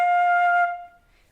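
A single sustained flute note, F, played clearly and alone, holding steady for about two-thirds of a second before fading out into quiet.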